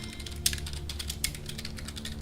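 Soft clicking of keys on a computer keyboard during a tabletop session, a few irregular taps with two sharper strikes over a low background hum.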